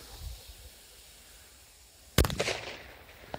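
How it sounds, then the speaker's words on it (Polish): A Bravo XL firecracker goes off in a single sharp, loud bang after a quiet stretch, followed by a brief crackling, rumbling tail and a few scattered pops. "Naprawdę spoko petardy."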